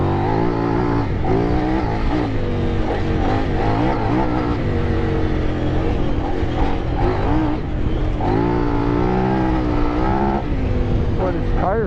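A Kove 800 Rally motorcycle engine revs and pulls hard while riding through sand on new tires, a loud, continuous roar with rising and falling throttle swells, with a rider's voice and wind noise mixed in.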